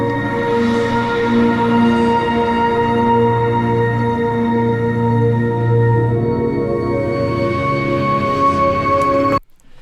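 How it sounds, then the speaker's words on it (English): Layered synthesizer pads in Logic Pro X drone in sustained, shimmering chords, swelling gently before cutting off abruptly at the end. "different synthesizers and pads"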